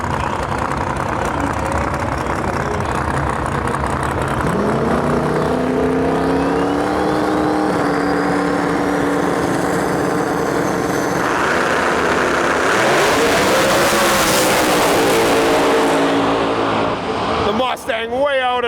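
Drag race pairing a 4th gen Firebird and a crank-driven Procharger Fox body Mustang: loud engines idle, then rev hard and scream off the line one after the other, with an announcer talking over the roar.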